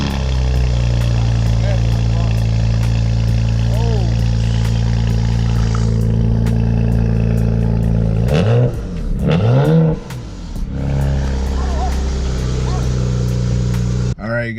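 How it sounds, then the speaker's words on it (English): A car fitted with catless downpipes and an MHD tune runs with a loud, raspy exhaust drone, close by, then blips through a few sharp revs that rise and fall before settling back to a rumbling idle. "we started up the car, revved it up a little bit"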